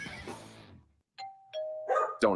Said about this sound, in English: It's another roof gypsy ringing the doorbell.